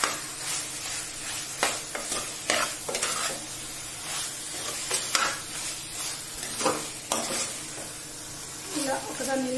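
Chicken curry is stirred in a pan, with repeated scraping strokes of a spoon over a soft sizzle, and a person speaks briefly near the end.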